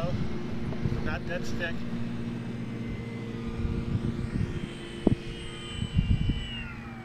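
A radio-controlled model airplane flying in to land makes a steady, thin electric-motor whine whose pitch slides downward near the end, with a few soft thumps and some talk underneath.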